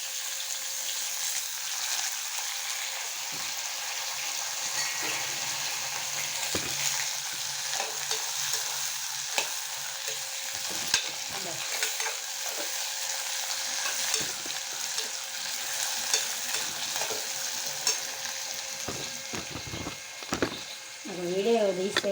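Cashews, onions and tomatoes frying in a pan, a steady loud sizzle running throughout with occasional scraping stirs and clatters, and a voice speaking briefly near the end.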